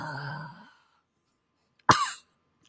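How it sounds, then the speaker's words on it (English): A single harsh, close cough bursts out after a breathy exhale and a pause of silence. "I was waiting for the cough."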